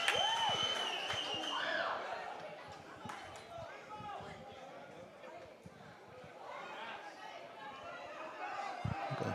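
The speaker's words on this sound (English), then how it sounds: "Making the Viking fans cheer loudly." Fans of the Viking team cheer and chatter loudly in the stands at a boys high school soccer game, a busy crowd roar that swells and settles with scattered shouts throughout.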